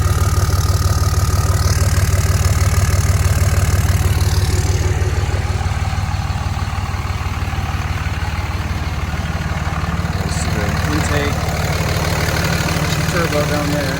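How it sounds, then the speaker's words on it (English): A Cummins diesel fitted with a 67 mm billet turbo and an S&B intake runs steadily with a deep, constant rumble close by, and a voice talks over it. "this S&B intake, so I threw that back on there. It sounds really good with this turbo."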